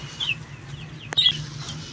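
A couple of soft, brief chicken clucks over a low background hum, fairly close, with a short pause between them.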